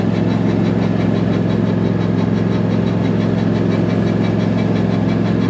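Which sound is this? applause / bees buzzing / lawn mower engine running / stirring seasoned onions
lawn mower engine running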